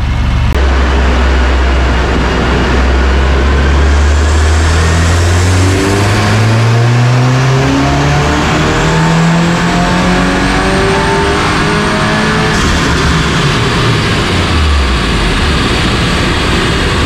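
A Subaru VB WRX fitted with a Perrin turbo inlet runs on a dyno, its engine roaring loud and close as the revs climb steadily through the gears in rising sweeps before easing off near the end.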